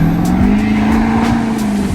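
A Ford 6.7 Powerstroke diesel truck drives past with a loud turbo whistle, a steady high whine riding over a deep engine rumble. The sound is close and dominant, with no voices.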